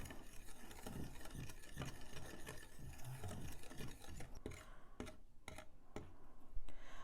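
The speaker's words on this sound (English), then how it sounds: "this is a Danish dough whisk that we use for all sorts of stuff" A Danish dough whisk mixes plant-based ingredients in a bowl, a close, rapid rasping and rubbing scrape in a fast rhythm, with a few sharper taps toward the end, no talk.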